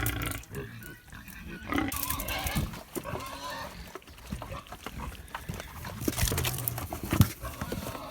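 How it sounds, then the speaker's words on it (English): Pigs feeding from a small bowl of soaked, fermented grain make irregular grunts and snorts up close, with chicken-like clucking mixed in among farm-animal noise, busy and uneven. "Hey, look out, pigs."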